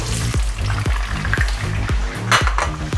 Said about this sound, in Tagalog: dito sa pinagprituhan ng chicken, dito rin natin ipiprito yung potato.